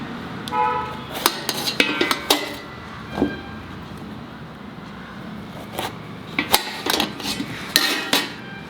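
A bottle gourd being cut and scraped in a kitchen: irregular knife taps, scrapes and clinks of metal on a board or dish, close by, in clustered bursts.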